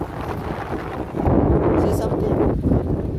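Strong sea wind gusts across the shore, a steady rushing roar that swells louder partway through while someone speaks briefly over it.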